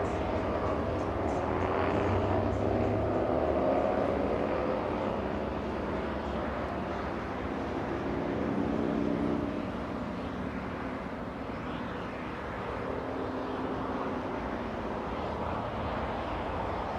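A 21-year-old United Boeing 757 taxiing at Los Angeles International Airport, a steady distant jet engine rumble and whine, fairly faint, swelling slightly and easing across the clip.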